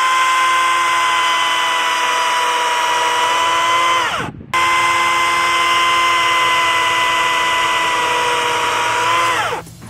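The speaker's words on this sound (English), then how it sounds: "let's take this out and test it with some of the tree limbs, logs, all sorts of stuff that I have laying around" A cordless EGO 16-inch battery chainsaw runs steadily with a high, even motor whine while cutting tree limbs, briefly dropping in pitch and cutting out near the middle before spinning back up for a second sustained cut that winds down at the end.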